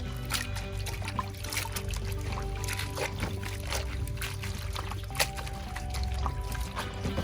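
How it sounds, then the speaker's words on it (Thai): Water pours continuously into a container to rinse leafy vegetables, a steady close splashing and trickling with a few brief clatters, alone without speech. "มื่อเราได้แล้วนะครับผมเราก็เติมน้ำนะครับผม ทำการลงไปล้างนะครับผม"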